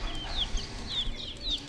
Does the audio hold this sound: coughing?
no